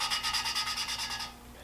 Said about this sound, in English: I'm putting just a little bit of downward pressure here as I'm grinding the valve